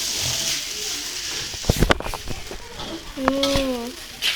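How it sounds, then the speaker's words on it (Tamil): Cooked rice and egg being stirred together in a pan for Malaysian nasi kicap, with soft scraping and sizzling, a few sharp utensil clicks near the middle, and a nearby squeaky tonal sound toward the end. "கிச்சா சோறை இதுக்குள்ளே முட்டையில் கொட்டிட்டு இந்த மாதிரி மிக்ஸ் பண்ணிக்கோங்க"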